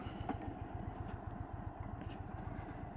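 Motorcycle ridden without its windscreen: a steady, low, rumbling engine drone with rapid even pulsing, heard from on the bike under a muffled wash of wind.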